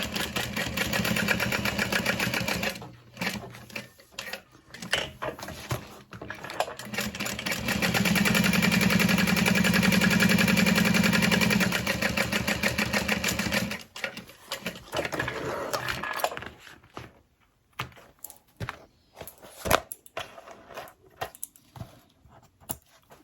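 Sewing machine top stitching a fabric tote bag panel, a steady mechanical whir in several runs, strongest in one long sustained burst midway, with short bursts and pauses before and after.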